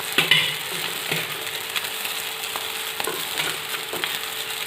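Mixed vegetables fry in a pan in a home kitchen, a steady, soft sizzle with scattered crackles and a few sharper clicks of stirring, close and moderately quiet, with no voices.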